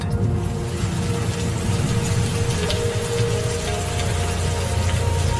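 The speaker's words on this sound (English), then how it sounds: "The deluge pours down on the super pride." Heavy rain pours down on the Serengeti plains in May, a dense, continuous, loud hiss of falling water with no pauses.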